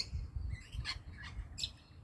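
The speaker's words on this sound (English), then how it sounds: "that's just a regular squeaker flying off there, which is the native miner" A noisy miner, a native Australian honeyeater, gives a few thin, high squeaks outdoors in Brisbane as it flies off, fairly faint over a low background rumble.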